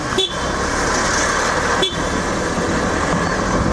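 Two short, separate honks from a motorcycle horn ride on top of loud, steady road and wind noise in traffic beside a truck.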